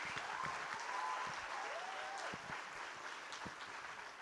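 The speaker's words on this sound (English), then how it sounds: "Can we have a big round of applause for them?" A convocation hall audience claps in a dense, sustained round of applause that carries on steadily throughout, with no voices rising above it.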